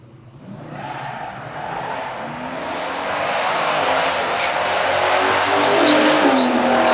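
A 1970 Torino Super Cobra Jet and a 1972 Chevelle Heavy Chevy launch in a stock drag race, engines roaring loudly and building steadily as they accelerate away.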